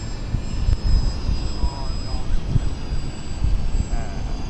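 A model trainer airplane flies in circles overhead, its small engine droning and rising and falling as it passes, against blustery wind noise outdoors.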